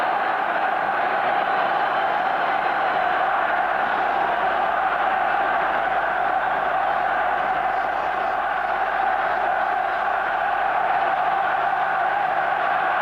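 A huge football crowd roars continuously at the 1990 World Cup qualifier between Ireland and Spain, a dense, loud, sustained wall of cheering from a packed stadium that holds steady for the whole stretch.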